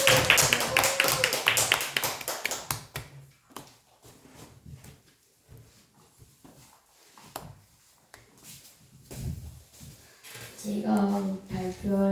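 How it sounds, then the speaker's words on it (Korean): A small classroom group claps to welcome a student presenter to the front, a burst of brisk hand claps that thins out into scattered taps and shuffling, with a voice starting to talk at the end. "뜨거운 박수 환영하겠습니다"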